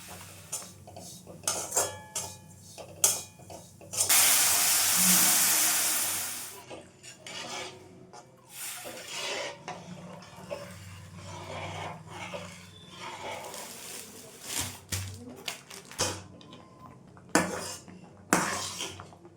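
Semolina (suji) cooks in a pan for a puja offering, with a metal utensil clinking and scraping in irregular bursts and one long, loud scraping stir near the start, all close by with no talking.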